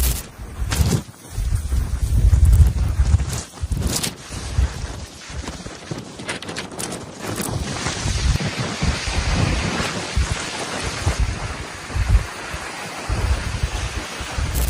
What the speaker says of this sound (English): The wind cut sharply, and the waves were already aggressive